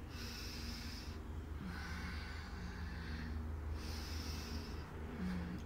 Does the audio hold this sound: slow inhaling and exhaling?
yes